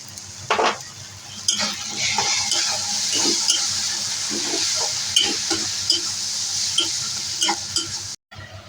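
Onion paste stirring and frying in a pan alongside ginger, garlic and chilli paste for an omelette curry, a steady close sizzle with scraping stir clinks throughout.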